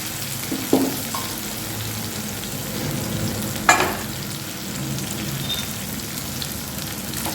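Boiled lentils hit a pan of frying spice mix in oil for egg tadka, setting off a loud steady sizzle with two sharp clatters of utensils against the pan, no voices.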